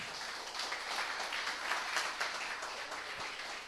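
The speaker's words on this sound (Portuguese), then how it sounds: "Você pode aplaudir o nome do Senhor Jesus?" A church congregation claps together in a fairly quiet, distant wash of applause, steady and even for a few seconds, with no voices rising above it.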